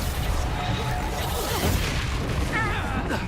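A Reducto spell explodes in Hogwarts Legacy, a loud booming blast with a crashing, rumbling tail set amid a busy, continuous wash of game combat effects.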